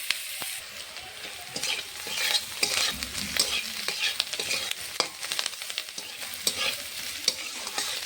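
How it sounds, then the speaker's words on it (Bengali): Sliced onions sizzle in hot oil while a spoon stirs them around the pan, with continuous crackling hiss and frequent scrapes and taps close by; no voices. "পেঁয়াজটা ভাজা হচ্ছে।"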